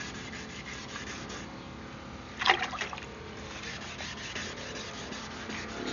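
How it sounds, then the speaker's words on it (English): Wet sanding of a 1995 Ford F250 front headlight with 800 grit paper gives a steady, quiet rubbing scrape, with a brief sharper scratch midway. "800. 800 wet sand."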